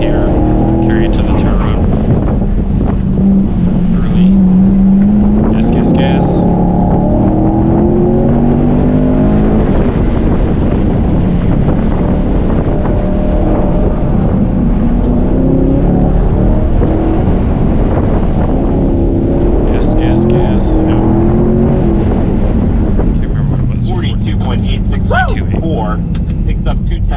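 An onboard race car engine drones loudly on track, its pitch rising and falling through acceleration and lifts, with wind buffeting the microphone and a voice talking over it.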